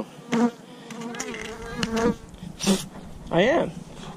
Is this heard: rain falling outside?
no